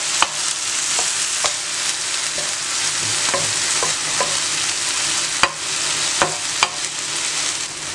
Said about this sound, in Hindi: हरी मिर्च डालनी है। मिक्स करें।